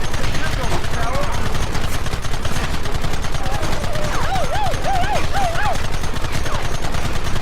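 Rapid gunfire in Red Dead Redemption, with fast rattling bursts running steadily throughout under shouting voices.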